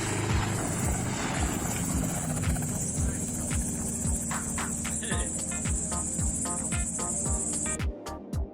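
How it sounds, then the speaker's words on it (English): A helicopter's rotor beats out a steady thudding pulse at close range through a hard landing that wrecks the aircraft, with a high insect-like whine running over it until a sudden cutoff near the end. "the helicopter had a hard landing and it was destroyed but not totally"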